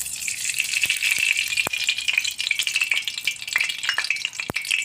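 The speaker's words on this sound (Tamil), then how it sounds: "எல்லா எண்ணெயிலையும் நல்லா சீரகம் வெடிச்சிருச்சு, பொன்முருவல் ஆயிடுச்சு." Cumin seeds splutter in hot mustard oil in a pan, a continuous close sizzle with scattered sharp pops and crackles, no voices.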